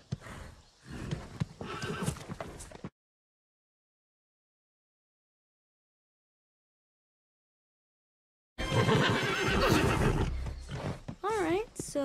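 A horse neighs loudly with a wavering whinny near the end, following talk, a long silent gap, and hoofbeats mixed with voices.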